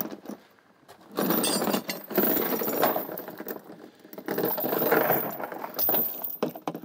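Metal chain clinking and rattling as it is handled and gathered, close up, in uneven bursts with brief pauses between, outdoors with no talking.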